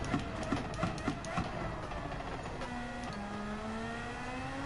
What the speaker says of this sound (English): It's a good sound of a car going over the bridge.